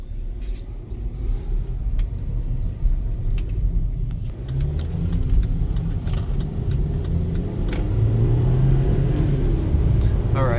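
A white 2018 BMW X1 under hard acceleration, with a steady engine and road rumble from inside the cabin that swells as it speeds up, close and continuous.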